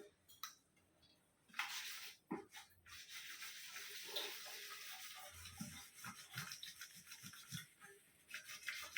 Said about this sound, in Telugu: నిమ్మకాయ పీతాంబరి పౌడర్ చూడండి వేసి బాగా ఉజ్జి కడిగేస్తామంటే